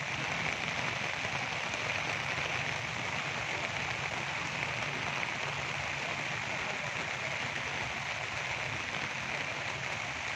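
Heavy rain pours steadily during flooding in Kuantan, a dense continuous hiss of drops on surfaces with no letup and no voices.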